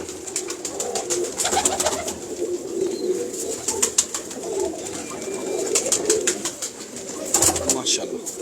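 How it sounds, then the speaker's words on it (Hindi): Several pigeons in a loft coo in soft, low repeated calls while wings flutter and clatter now and then, with quiet voices in the background. "उस्ताद हबीब मुगल साहब के कबूतर आपको दिखा रहे हैं"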